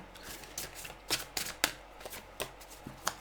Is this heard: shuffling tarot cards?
yes